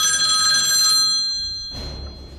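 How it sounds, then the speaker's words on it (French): A mobile phone rings with a bright, steady electronic tone that holds for about a second and then fades. A short burst of rustling noise follows. "Mais c'est le téléphone de Raphaël qui sonne, non?"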